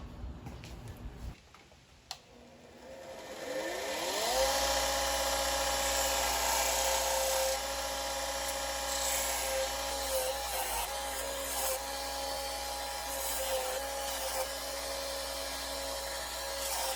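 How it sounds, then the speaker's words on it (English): A grinder spins up and runs steadily on a phone holder part for a 1936 Chevy Coupe, a close, sustained whine after a few light knocks at the start. "Let me grind this, see if it fits that."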